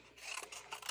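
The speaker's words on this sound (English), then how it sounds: "I'm going to cut some skinny rectangles." Scissors snipping orange paper into skinny rectangles, a few quick close rasping cuts in quick succession.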